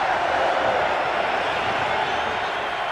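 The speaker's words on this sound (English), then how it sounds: "The crowd is electric right now." A crowd at an India vs Pakistan T20 World Cup final cricket match sends up a steady, loud roar of cheering throughout, with no clear breaks.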